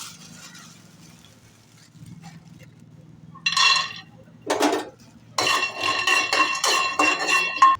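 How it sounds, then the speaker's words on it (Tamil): Peanuts roasting in a pan for a capsicum gravy, heard as bursts of rattling and scraping against the metal pan over a low background hum, growing busier and more continuous toward the end. "இப்போ வேர்க்கடலையை வறுத்துக்கலாம்."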